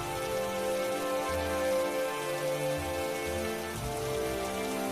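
Heavy rain used as a sound effect in an animated children's story: a dense, steady downpour hiss that lasts throughout, with a soft musical bed underneath and no voices.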